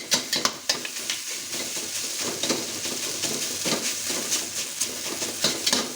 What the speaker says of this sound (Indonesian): sekarang kita tinggal aduk-aduk saja nasi gorengnya ya teman-temannya sampai semuanya tercampur rata